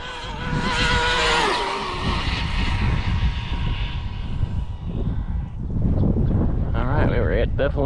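An Arrma Felony front-wheel-drive RC car makes a loud, sustained speed pass, its motor whining steadily with a brief dip midway before rising again near the end.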